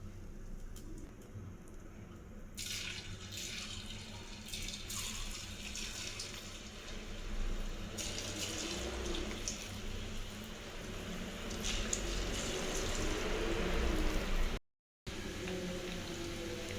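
Ragi pakoda batter frying in hot oil gives a steady, close crackling sizzle that runs without a break, with a brief dropout near the end.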